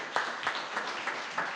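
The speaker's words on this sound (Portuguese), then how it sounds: "Você pode aplaudir o Senhor" A church congregation at a Sunday evening service claps in a faint, rhythmic unison beat, the claps landing at an even pace over a soft room hum.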